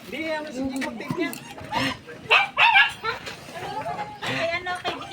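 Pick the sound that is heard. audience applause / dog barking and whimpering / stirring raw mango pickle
dog barking and whimpering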